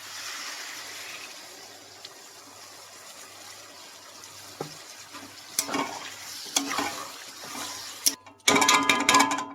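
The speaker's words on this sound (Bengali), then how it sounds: "হয়ে গেছে, আমি জল দিয়ে দেবো।" Water is poured into a pan of sizzling, spiced masala, a soft frying hiss that breaks into louder splashing and bubbling bursts near the end.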